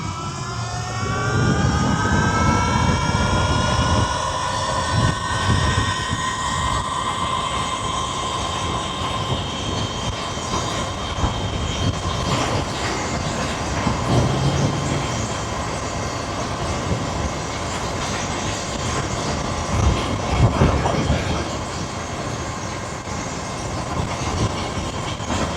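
A Surron Light Bee X electric dirt bike at full throttle, a loud steady rising whine with rushing wind noise throughout the ride, no voices.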